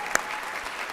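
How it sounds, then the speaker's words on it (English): A crowd at a nursing convocation and pinning ceremony claps for the faculty, a steady wash of applause filling the room, one sharp clap standing out near the start. "We can give them a round of applause,"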